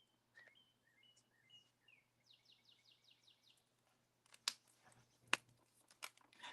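A bird sings outside an open window, perched on a telephone line, in a short series of rapid chirps and trills heard faintly at a distance, followed by a few sharp nearby clicks and rustles.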